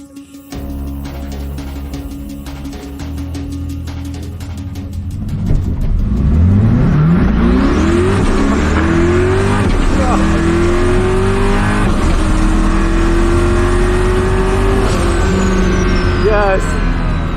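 Corvette C8 drag car idling, then launching hard with a loud rising engine roar that climbs through the revs and holds at full power for several seconds, very close and dominant, with talk under it.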